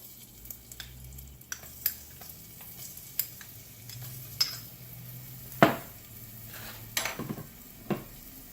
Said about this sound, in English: So what we're going to first do is put some shallots in.